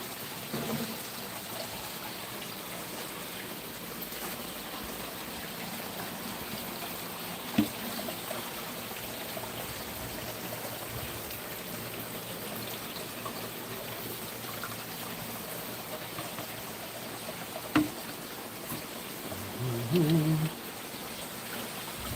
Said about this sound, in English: We gotta water these things.